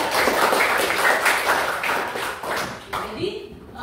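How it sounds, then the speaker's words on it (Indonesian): A small class gives a short round of clapping for a student named Suka, several close hand claps in a quick rhythm that taper off after about three seconds, followed by a speaking voice. "tepuk tangan untuk Suka"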